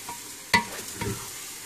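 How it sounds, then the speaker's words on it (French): Toasted almonds stirred into a cinnamon, egg and spice mixture in a pan for chicken pastilla, a sharp scrape and then soft stirring over a faint sizzle, close and with no talk. "Et qu'on mélange."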